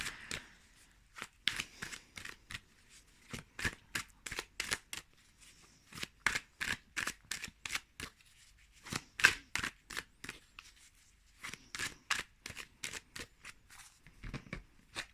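Tarot cards are shuffled in quick riffling bursts, a steady run of close, crisp flutters and snaps with brief pauses, no talking.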